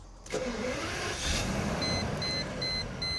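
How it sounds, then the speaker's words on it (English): A 1997 Mercedes-Benz SL600 V12 engine cranks and catches, settling into a smooth, even idle up close, with a few soft electronic chimes sounding at intervals. "Really is an unmistakable startup sound, the smooth startup of a V12."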